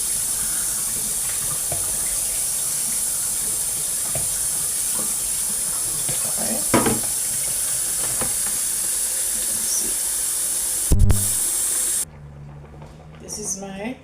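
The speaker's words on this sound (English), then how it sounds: "Strain out the water, which is easier for me." Cooking water from callaloo for Jamaican-style rice pours and drains through a strainer as a steady, close hiss-like rush that runs almost continuously, with a brief louder clatter near the end before it cuts off.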